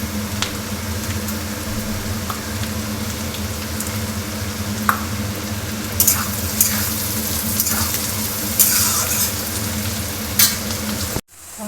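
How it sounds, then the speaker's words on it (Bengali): Onions and potatoes sizzle loudly in a pan during a home egg curry, with steady frying noise, repeated stirring scrapes and clinks, and a sudden cut at the end. "আমি পেঁয়াজগুলো বেশি ভাজবো না।"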